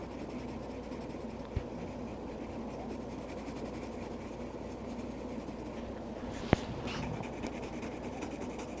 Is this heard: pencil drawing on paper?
yes